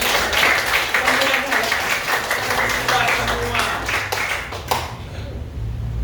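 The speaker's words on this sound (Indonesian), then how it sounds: "Hebat Pak Guru, tepuk tangan sekali lagi." A class of children claps together for their teacher in a classroom, a loud dense burst of hand claps lasting several seconds before stopping abruptly, with voices mixed in.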